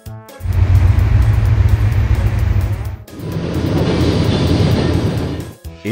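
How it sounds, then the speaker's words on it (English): A high speed train roars by at close range, a loud sustained rush of low rumble and airy hiss, split by a short gap before a second powerful pass. "High speed train."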